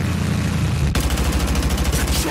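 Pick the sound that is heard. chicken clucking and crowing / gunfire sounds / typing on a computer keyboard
gunfire sounds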